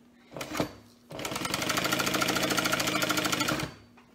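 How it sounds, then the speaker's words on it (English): Sewing machine top stitching folded fabric edges, a short burst of stitching, then a steady fast mechanical whir with rhythmic needle clatter for about two and a half seconds before stopping, close and alone. "We want to top stitch these edges that we just folded under."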